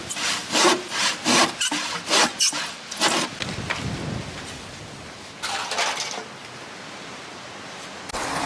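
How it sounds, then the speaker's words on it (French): Hand saw cutting through a plum tree branch outdoors, a close series of rhythmic rasping strokes that stop, leave a noisy pause, then resume with a few more passes. "Je vais lui mettre un bon coup de scie."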